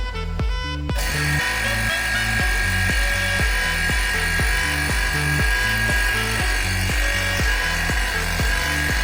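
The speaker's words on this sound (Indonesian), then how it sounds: "langsung aja kita lakukan penyedotan menggunakan pompa vakum" A vacuum pump runs to saturate rock samples in a physical properties test, a loud steady mechanical drone with a fast, even chugging pulse that starts abruptly and continues throughout.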